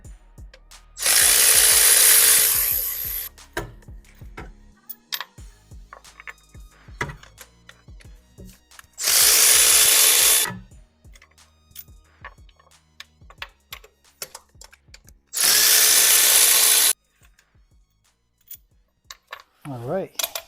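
Hand and power tools work on the spark plugs of a 2008 Honda Civic Si: three loud hissing, whirring bursts of a second or two each, separated by scattered metallic clicks and ratcheting taps.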